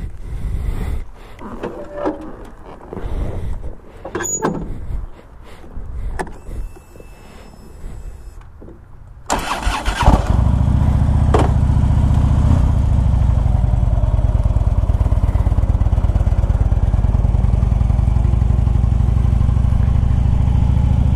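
A 2011 Harley-Davidson Ultra Limited with the 103 engine and Vance and Hines pipes: handling clatter and clicks give way to the engine firing up, then a loud, steady, low rumble that carries on close by.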